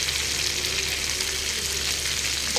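Fish fries in a hot pan with an even, continuous close-up sizzle and hiss, a busy bed of oil crackle holding steady throughout with no voices.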